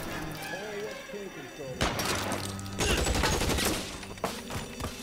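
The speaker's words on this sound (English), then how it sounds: "I like having this machine gun." Machine gun fire in the video game LA Noire: bursts of rapid gunfire crackle loudly in two main volleys, with in-game voices and background sounds around them.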